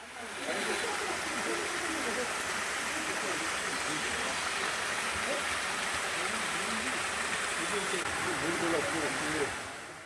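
Seryeom Falls, a small two-tier waterfall in a Wonju valley, pours in a steady, broad rushing wash that holds at an even level throughout, close and unbroken with no clear voices over it.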